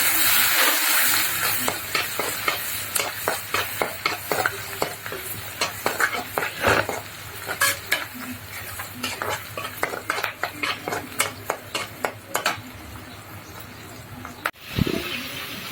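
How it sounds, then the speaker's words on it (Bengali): Onion, garlic and dried chillies fry in oil in a pan on a stove, sputtering and crackling with quick spoon scrapes in a busy, irregular rhythm, close and loud throughout, ending in a sharp clatter. "তেলে দেওয়ার জন্য পেঁয়াজ রসুন আর শুকনো ঝাল দিয়ে দিলাম চুলার উপরে"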